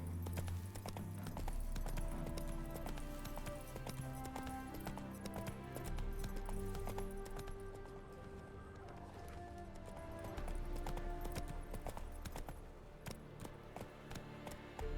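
Roach, a horse in The Witcher 3 video game, walks along with a steady, rhythmic clip-clop of hooves that carries on throughout against a busy background.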